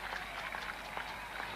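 A cricket crowd applauds at an England versus West Indies Test match in 1976, with steady, moderately distant clapping from many hands and a commentator talking over it.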